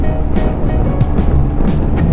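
Yamaha TMAX Tech Max scooter cruising on cruise control, a loud, steady low engine drone with rushing wind buffeting, close and continuous.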